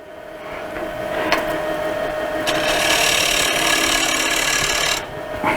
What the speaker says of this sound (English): I'm just taking a very, very small cut